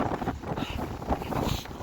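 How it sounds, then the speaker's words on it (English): Strong, gusty wind buffeting the microphone on a Black Mountains path near Hay Bluff in South Wales, a rough, fluttering roar with uneven bursts over a couple of seconds. "our wind's a bit brutal, so keep getting little blasts of crappy weather coming and going"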